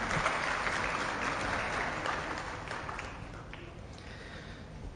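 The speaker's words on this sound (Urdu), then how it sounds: "میں گزارش کروں گا کہ ان تمام آرگنائزرز کے لیے ایک آپ لوگ تالیاں ضرور بجا" An audience at a school event in Karachi applauds its organizers, with dense sustained clapping that fades gradually over several seconds.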